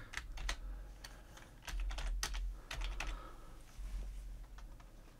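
Keys clatter on a computer keyboard in quick, irregular bursts of close, crisp clicks over a low steady hum, with brief pauses between runs of typing.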